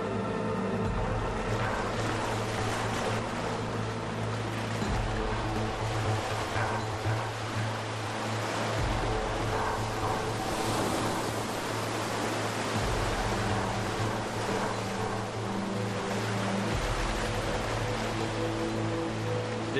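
Ocean waves break on a deserted island shore as a steady, loud surf roar that fills the whole scene with no let-up, while a low, sustained tonal hum runs underneath.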